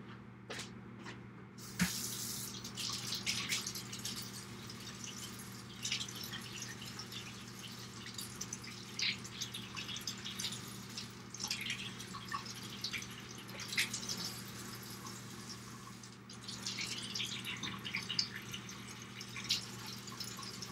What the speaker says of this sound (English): Okay, I gotta run hot water over this.